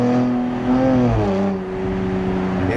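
A Nissan Z NISMO fitted with a cold air intake revs up and settles, a loud, smooth engine note rising and dipping across a few seconds, close and alone.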